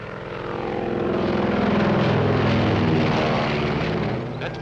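A propeller airplane in a 1944 adventure serial drones steadily toward the scene, a loud, rough engine roar that swells and holds for several seconds with no voices over it.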